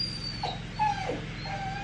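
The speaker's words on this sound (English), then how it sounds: "So I have all 3 dogs in my office with me." Dogs whimpering inside a home office, a few soft high whines and yips in short bursts over a steady low background hum.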